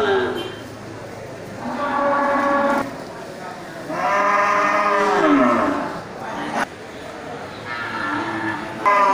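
Cattle at an Indonesian livestock market, fattening-grade cows, give several long, loud moos of a second or more each, spaced across the stretch with crowd noise beneath.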